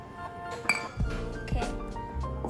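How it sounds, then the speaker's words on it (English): Italian soda with lychee syrup stirred in a glass, a run of bright clinks and pings as the spoon knocks the glass several times, close and moderately loud. "So this was about half a glass, and then I'm gonna stir it."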